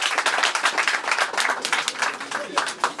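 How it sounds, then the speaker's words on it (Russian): Audience applause at an Arbat evening performance, a lively mix of individual hand claps with distinct sharp strikes, moderately close and sustained throughout. "ваши аплодисменты."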